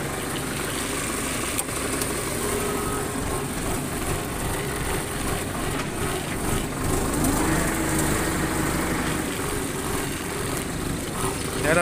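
A Yanmar 90 hp tractor engine drones steadily and fairly close while pulling a three-disc plow through old sugarcane stubble in third gear, a constant mechanical rumble with no clear talking.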